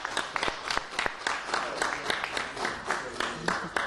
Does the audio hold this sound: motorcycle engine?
no